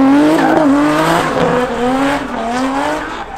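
A race car at the Mondello circuit passes with its rear tyres skipping, giving a loud, wavering engine drone with chattering, stuttering tyre noise over a few seconds, close and without speech.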